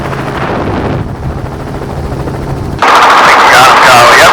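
Helicopter rotor and engine drone fill the air during a hog hunt, with rapid gunfire from the helicopter aimed at hogs in the trees cutting in loudly partway through, near and harsh.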